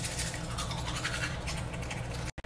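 Steady scrubbing of a toothbrush during tooth brushing, a continuous close bristly rasp that runs without pause before a brief cutoff near the end.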